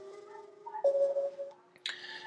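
The Eight Sleep smart mattress app's calm alarm tone, a soft sequence of gentle electronic notes that swell and fade, ending with a brighter chime, played quietly from a phone.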